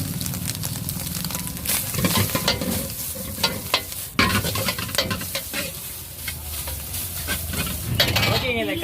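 Carrot and shredded cabbage stir-fried in a pan for street-stall style prawn noodles, a steady sizzle with repeated scraping stirs and metallic clinks, close and continuous with no talk.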